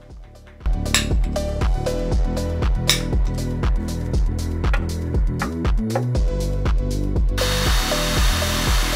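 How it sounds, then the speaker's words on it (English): A power drill works through metal brackets for a Navara rock-light install. Its motor revs rise and drop in repeated cycles, with sharp metallic clinks between bursts. The sound is loud and close, runs continuously, and no one speaks. "I have finished all the drilling needed on the brackets"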